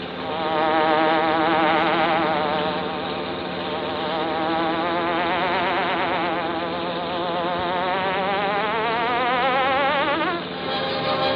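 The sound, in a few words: Green Hornet buzzing hornet sound effect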